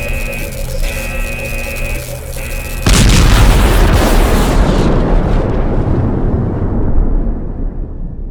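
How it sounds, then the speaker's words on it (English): An energy core overcharges and blows up in the video game Last Days of Lazarus: steady tonal humming gives way to a sudden loud, close boom whose broad rumbling roar slowly fades over several seconds. "Destabilize the energy core. It's overcharging. Let's get the hell out of here. This thing is going to explode."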